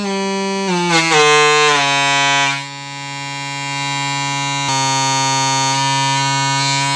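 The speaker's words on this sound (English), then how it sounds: "So that's the higher frequency range of this speaker." A 3-inch mid-range woofer plays a steady test tone that sweeps downward in pitch, shifting through several held steps, loud and harsh with strong overtones, alone without talk.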